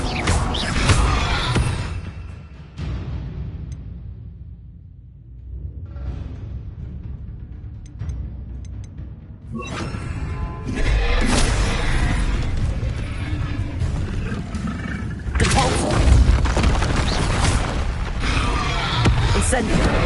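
Confringo blasting spells go off in a wizard video game: loud, close bursts and booms with mechanical clatter, a brief quieter lull midway, then dense repeated blasts, with some vocal sounds mixed in.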